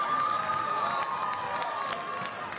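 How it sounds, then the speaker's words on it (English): Crowd cheering at a Friday night high school football game in Auburn, a broad steady roar of voices from the stands with a sustained high whistle or shout running through it, continuous for the whole stretch. "The Auburn crowd is cheering."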